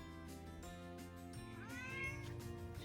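A house cat meows clearly and close by, with one drawn-out rising and falling call that swells near the end. No one speaks over it.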